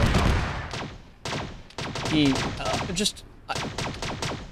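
Sustained automatic gunfire pours into an elite APC in Arma 3 with a Warhammer 40k mod, dense rapid bursts of loud shots with brief pauses between volleys, close and continuous.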